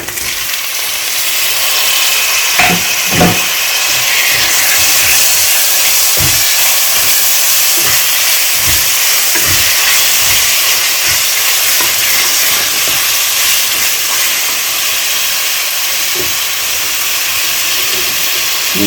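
Tomatoes stirred into red onions frying in a pan for spicy tinde sabji, with steady loud sizzling and hiss throughout and repeated soft scraping stir knocks, no talking.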